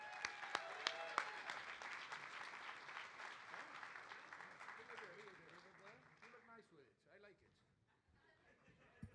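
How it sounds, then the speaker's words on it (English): A round of applause from an audience at an event rises briskly with sharp claps and some laughter, then gradually thins and fades over several seconds as the clapping dies down. "Let's have a good round of applause for Jeff."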